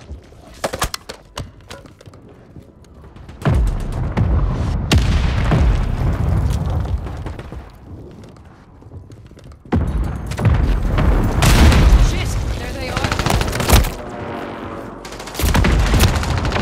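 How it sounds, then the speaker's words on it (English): Hostile mortar strikes landing nearby in a Call of Duty match, with heavy booming blasts mixed with bursts of gunfire, arriving in several loud, irregular waves. "Hostile mortar strike near your position."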